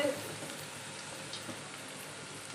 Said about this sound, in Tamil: இப்போ நல்லா வதங்கிடுச்சு வெங்காயம்